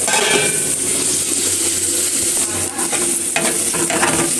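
Onions frying in a pan on a home stove at lunchtime, giving a loud, continuous, close-up sizzle with occasional stirring scrapes and light clinks of a utensil against the pan, no voices.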